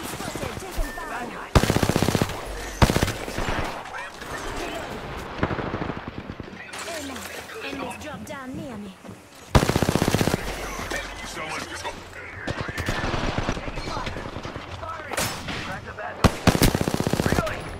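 Automatic weapon fire from the Apex Legends battle royale game rattles in loud, rapid bursts with several sharp single shots, mixed with excited player talk over the game audio.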